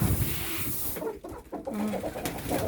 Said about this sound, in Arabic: احنا داخلين عند الحمام اهو، نشوف اخباره ايه